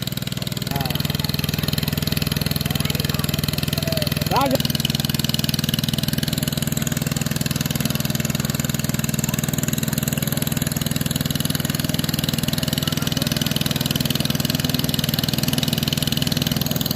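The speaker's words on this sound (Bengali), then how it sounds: "এদিকে মেশিন চলছে আমাদের" An engine-driven machine runs steadily beside a fishing pond, a continuous mid-pitched motor drone with a low hum throughout, with people talking and calling out over it.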